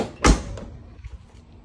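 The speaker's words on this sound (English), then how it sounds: "let me close the door back" The door of a box Chevy Caprice closes with one sharp, loud thump that quickly dies away into quiet background.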